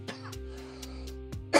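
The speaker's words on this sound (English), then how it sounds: "This stuff is making me cough tonight." A person smoking cannabis coughs and clears their throat, a few short, dry hacks over a quiet background with a steady low hum, ending in a sharper burst.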